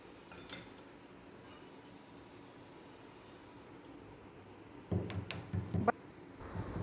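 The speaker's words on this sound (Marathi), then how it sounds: "आता मी हे खलबत्त्यामध्ये कुटून घेते" A handful of sharp pestle strikes in a kitchen mortar, pounding a small heated spoonful of ingredient for a fresh coconut karanji filling. They come in a short irregular burst near the end after a stretch of quiet room hum, with no talking.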